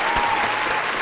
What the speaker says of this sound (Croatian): Aplauz svi ljudi, aplauz, brzo.